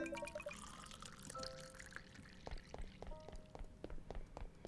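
A watering can fills with water in a cozy video game, a faint splashing pour with drips and small clicks, quiet throughout.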